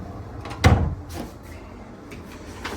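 A sliding wardrobe door in a hotel room is pushed back along its track, making one clear rolling slide and bump near the start, followed by quieter faint handling noises.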